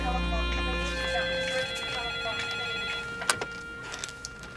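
Telephone bell rings steadily at moderate distance, a continuous electronic trill that holds through the whole moment with faint background noise.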